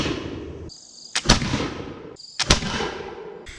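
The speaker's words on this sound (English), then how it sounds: "The 100 grain charge is a common shooting charge for people who are shooting flintlock muskets like the brown bess." A flintlock musket of the Brown Bess type fired with a 100 grain powder charge: two loud booming reports about a second apart, each with a sharp crack and a short rumbling tail, over an outdoor hiss.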